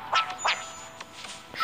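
Duck quacks in a Messenger video game, two sharp nasal quacks close together followed by fainter quacking and clicks, moderately quiet against a soft background.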